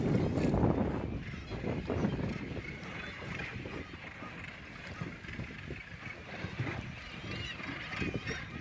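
A gannet colony at Bass Rock calls in a dense, far-off chorus of harsh cackling cries from thousands of nesting birds, heard over the steady rumble of a boat engine and water.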